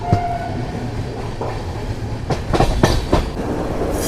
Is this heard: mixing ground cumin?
no